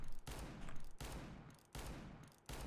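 Revolver gunshots in a video game aim-training map, three sharp, evenly spaced shots, each ringing out briefly before the next, with no talk.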